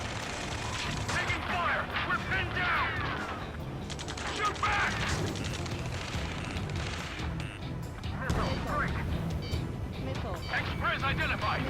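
Gunfire rattles through a ground battle in the video game Ace Combat 7: Skies Unknown, with dense, rapid bursts and booms running throughout. Shouting voices sit over the shooting.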